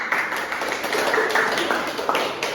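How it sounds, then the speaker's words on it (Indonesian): A class of children applauding, a short burst of scattered light clapping with some voices underneath. "Kasih aplaus dulu dong"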